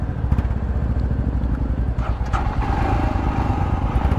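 Royal Enfield Scram 411 motorcycle running at a test-drive area, a steady close engine chug throughout with a few brief sharper clicks; some background activity but no clear speech.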